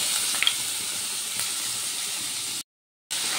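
Onion, ginger and tomato paste sizzles steadily in hot oil, a close, even, bright hiss with faint crackles and a brief gap of silence near the end.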